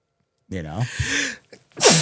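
A voice speaks briefly, then a single sharp, loud sneeze bursts out at the end.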